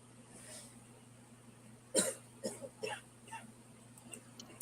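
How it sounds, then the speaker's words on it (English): A child coughs once sharply, followed by a few smaller coughs, in a quiet room. "Hold on, my daughter's coughing."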